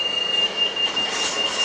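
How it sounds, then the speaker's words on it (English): A tram in Milan rumbles steadily along its rails, a continuous mid-to-high noise with a thin, sustained squeal above it and no voices. "So right now I'm in the tram."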